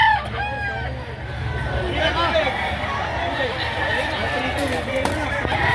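Stag roosters crow at a busy Saturday chicken market in Lipa, Batangas, their calls rising over a steady crowd babble and nearby talk throughout.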